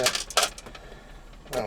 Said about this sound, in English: Good thing I got 6 extra screws. I may need them if I drop them like that.